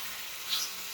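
Onions and tomatoes sizzle in hot oil for spinach soup, giving a soft, steady frying hiss with a slight swell midway through a short burst.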